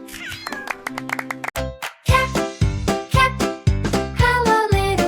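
A small cat meows repeatedly, with several clear, close, loud meows coming one after another and no talking over them.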